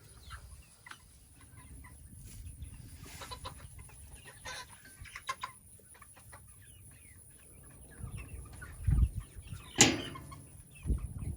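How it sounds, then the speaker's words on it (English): Chickens on a farm cluck and murmur softly at close range amid rustling, with a few louder squawks and flutters near the end. "Look at all these chickens and this big baby."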